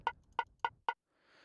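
Four short, low-pitched electronic hi-hat hits from Mario Paint's music editor, evenly spaced and clipped, followed by near silence with a faint hiss.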